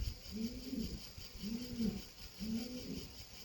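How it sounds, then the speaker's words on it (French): A pigeon coos three times in an even, repeating rhythm, soft and somewhat distant over faint background hiss. "C'est un pigeon."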